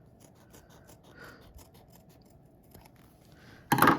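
Fabric shears snipping through fabric while making a puppet, faint repeated cuts and rubbing scrapes ending in a sudden loud crunching cut.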